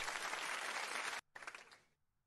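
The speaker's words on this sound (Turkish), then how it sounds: "Alkışlıyorum kendimi alkışlıyorum." A person applauding at home while judging a beauty pageant's finalists, a steady burst of clapping that stops abruptly, then a shorter, softer flurry trailing off into quiet.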